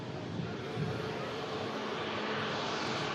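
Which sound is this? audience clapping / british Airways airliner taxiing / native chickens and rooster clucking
british Airways airliner taxiing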